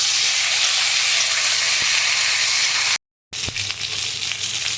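Flat beans sizzle and fry in a pan with black cumin, a steady loud hiss that drops out briefly near the middle and then resumes with a clack and more sizzling.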